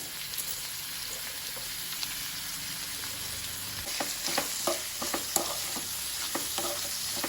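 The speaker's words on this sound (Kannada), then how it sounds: "ಈರುಳ್ಳಿ ಸ್ವಲ್ಪ ಬಾಡ್ತಿದ್ದಾಗೆ ಹೆಚ್ಚಿಟ್ಕೊಂಡಿರುವಂತಹ ಮೂಲಂಗಿಯ ಹೋಳುಗಳನ್ನು ಇದಕ್ಕೆ ಹಾಕ್ಕೊಂಡು ಸ್ವಲ್ಪ ಫ್ರೈ ಮಾಡ್ಕೊಳ್ಬೇಕು." Radish pieces and softened onion frying in a pan for a radish masala gojju give a steady broad sizzle, with sharp clicks from stirring growing more frequent in the second half.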